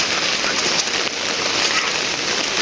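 Rain falls steadily over a village beside rice fields, a dense, loud, unbroken hiss of drops on surfaces.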